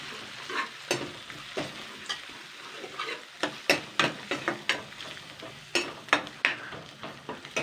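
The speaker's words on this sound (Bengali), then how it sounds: "এটাকে আমি জাস্ট 2 থেকে 3 মিনিট নাড়াচাড়া করবো, তার বেশি না।" Garlic paste and coriander powder frying in a pan while being stirred, a soft sizzle under irregular clinks and scrapes of the utensil, close up, with no talk.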